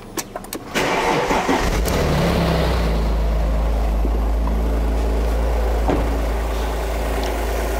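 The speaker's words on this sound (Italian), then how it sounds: "andiamo a avviare il motore" A car engine cranks weakly with a few quick stuttering bursts, then catches and settles into a loud, steady idle.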